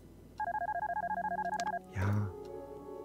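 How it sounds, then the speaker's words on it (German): A mobile phone rings inside the horror adventure game Darkness Within, a steady warbling electronic ringtone pulsing for about a second and a half, followed by a short low thud, fairly quiet and clear with no talk over it. "Aber geh erstmal ans Telefon, das nervt."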